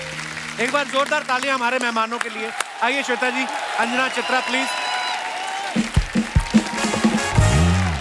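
Studio audience applause for guest news anchors on a televised comedy show, running underneath a host calling the guests forward, with background music mixed in.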